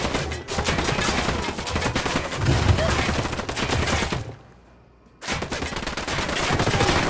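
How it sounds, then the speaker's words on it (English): Sustained gunfire from a firefight in the video game Tom Clancy's Ghost Recon Wildlands, a dense, loud run of rapid shots that drops out for about a second before the barrage resumes just as heavily. "Opening fire."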